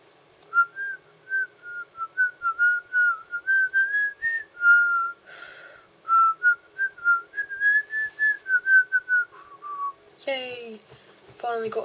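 A person whistles a melodic tune, clear and close, with short phrases and brief pauses, ending with a sharp noisy sound.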